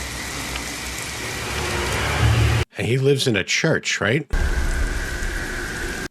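Heavy, steady rain pours in a scene from the horror film The Exorcism of Emily Rose (2005); a short stretch of talk briefly cuts in midway before the dense downpour resumes.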